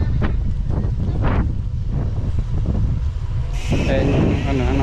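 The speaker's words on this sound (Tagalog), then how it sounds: "Lakas ng hangin." Strong wind buffets the microphone with a continuous roar, while people talk briefly in the background.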